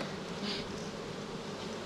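Honeybees from a caught swarm buzz in a steady, close hum around a hive frame, with individual bees droning past now and then.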